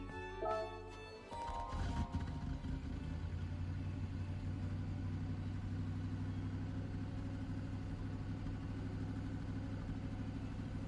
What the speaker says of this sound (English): We get to hear some audio from the car.